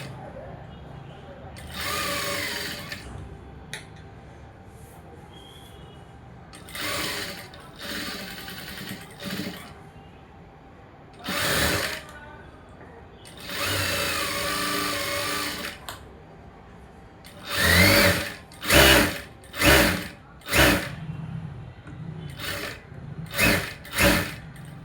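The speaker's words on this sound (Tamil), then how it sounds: "படிமான தையல் போடுறேன்." A sewing machine stitches a blouse lining in repeated bursts: a few longer whirring runs early on, then a quick series of short, loud stop-start stitches toward the end.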